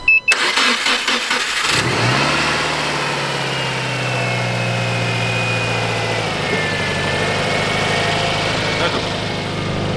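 A car engine cranks with a rapid stutter of the starter, catches and settles into a steady, close idle that drones on with slight pitch shifts to the end.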